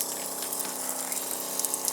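Water runs steadily from a hose feeding a Wagtail Wave window-cleaning brush with a swivel head, a continuous close rushing flow with no voices.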